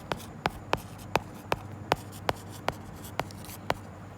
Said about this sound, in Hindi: पूरा ही लिख देती हूँ